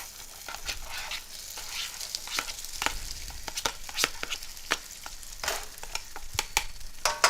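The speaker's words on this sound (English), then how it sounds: "now I'm going to go ahead and add the rice in there and just stir fry it for about" Rice toasts and stir-fries in hot garlic butter and oil for Mexican rice, with a steady close sizzle and frequent sharp scraping clicks of a utensil against the pan.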